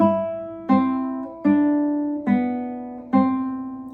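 Classical guitar plucking a slow melody of single notes, five or so spaced plucks each left to ring and fade, close and clear.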